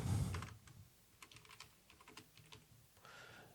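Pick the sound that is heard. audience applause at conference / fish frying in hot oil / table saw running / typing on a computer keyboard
typing on a computer keyboard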